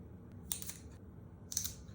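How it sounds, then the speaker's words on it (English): Scissors snip through a plant stem while propagating houseplants, two quiet crisp cuts about a second apart, close and alone against a soft background hiss. "I'm gonna go ahead and I'm gonna snip right here too."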